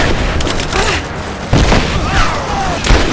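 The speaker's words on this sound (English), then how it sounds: "Throwing a grenade!" A grenade explosion in Rise of the Tomb Raider booms loud and close, followed by further heavy blasts and gunfire amid a constant battle roar, with voices shouting in the background.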